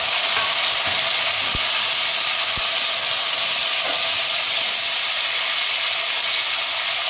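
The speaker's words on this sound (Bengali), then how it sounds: "এবারে আমি আগে থেকে ভেজে রেখে ঝিঙেটা দিয়ে দিই" Pre-fried ridge gourd goes into a hot pan with potatoes and poppy seed paste, raising a loud, constant hiss of sizzling oil and steam, with a few sharp ticks from a spatula stirring, close and without speech.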